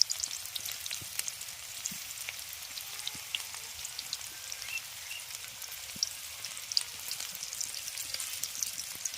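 Banana flower pakoras frying in hot oil in a wok, a soft, steady crackling sizzle heard close up and alone, fairly quiet throughout.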